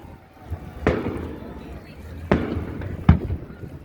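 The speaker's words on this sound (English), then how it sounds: "Do you hear how loud they are when they go out the tubes?" Big fireworks shells thump out of their launch tubes at a city fireworks show in Antioch, California: three sharp, loud booms spaced about a second and a half apart over crowd noise.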